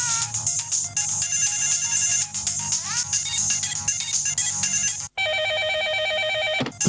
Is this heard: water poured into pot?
no